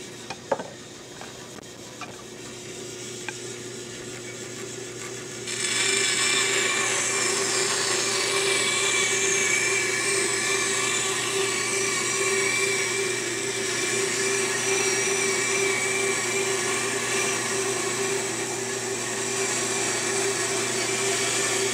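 A table saw rips a wooden workpiece, fed through the blade by hand with a sliding technique; after a few quiet knocks the blade bites in, making a loud, steady, sustained cutting roar for the rest of the span.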